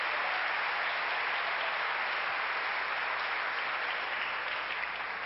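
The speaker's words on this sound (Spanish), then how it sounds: "Démosle otro aplauso al Señor" Church congregation applauding during a Sunday worship service, a steady dense wash of clapping that holds evenly and fairly loud from start to finish with no voices over it.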